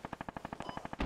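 Rapid burst of 30 mm cannon fire in the video game Squad, about a dozen evenly spaced heavy thuds in just over a second, loud and close, with no talk.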